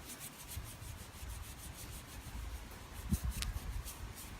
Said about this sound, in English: So you just rub the paint until